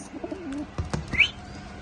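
Pakistani Teddy pigeons coo softly with low, throaty warbles, a brief higher chirp mixed in, all fairly quiet and close.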